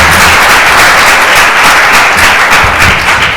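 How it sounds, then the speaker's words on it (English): Audience applause at a climate and movement summit session, a dense, steady wash of many hands clapping that stays loud and even throughout with no talk over it. "let's give him a big round of applause"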